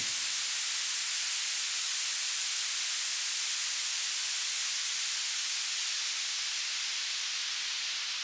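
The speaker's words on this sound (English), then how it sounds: "the white noise is going to come back up again at the end" Steady broadband white noise hiss, constant and fairly loud throughout with no other sounds.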